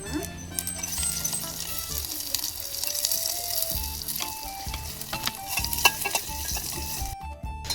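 Onions sizzle and crackle in hot oil in a pot, a steady busy frying hiss with stirring clinks, while a person talks over it.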